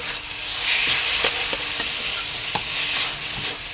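Pork sizzling and hissing in a hot wok during a stir-fry with curry paste, with repeated scraping stirs of a utensil against the pan.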